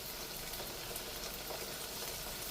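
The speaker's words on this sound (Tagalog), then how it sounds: "Saute. Hanggang sa maluto at kumapit ang lasa ng sibuyas, bawang" Onion and garlic sizzle in a hot pan for chopsuey, an even, steady hiss of frying without voices.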